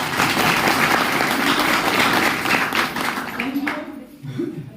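Dense, loud applause from a crowd at a public meeting holds steady, then thins out and fades toward the end.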